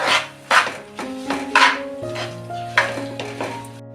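Sesame and jaggery tilgul mixture stirred in a pan, a series of close, fairly loud ringing scrapes and clinks of a spoon against metal in an irregular rhythm, no speech.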